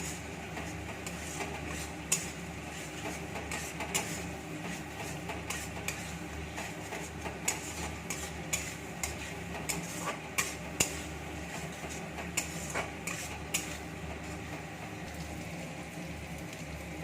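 Chicken being sautéed and stirred in a pan, with a spatula scraping and clicking irregularly against the metal over a soft, continuous sizzle for the whole stretch, with no talking.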